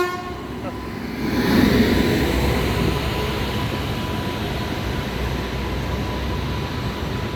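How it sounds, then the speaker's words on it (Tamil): A passenger train rolls into a station with a steady mechanical rumble and rattle, and a brief horn toot sounds near the start, continuing at moderate loudness. "இதுதான் அந்த ரயில்."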